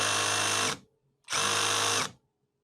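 A HyperTough 12 volt brushless drill whirs in two short bursts of under a second each, separated by a brief silence, with a steady high motor whine close up.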